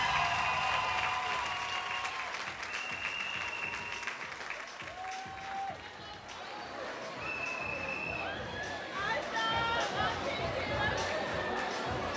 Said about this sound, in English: please give yourselves a round of applause to the class of